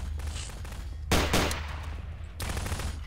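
Bursts of gunfire in the Gmod game as zombies and head crabs are shot, two loud broadband volleys, the first longer with rapid repeated shots, the second starting near the end, over a constant low game hum.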